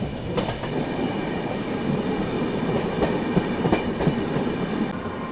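Inside the Mumbai–Nagpur Duronto Express at speed, a steady roar of wheels on rail fills the space, with rhythmic clickety-clack joints and faint squeals as it passes a special train.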